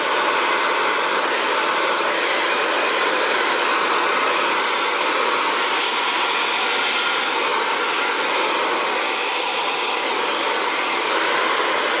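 An Xtava Allure ionic ceramic hair dryer blows steadily and loudly at close range, a continuous broadband whoosh with no pauses.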